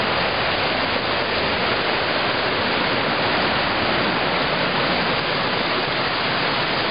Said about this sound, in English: This is White's Creek.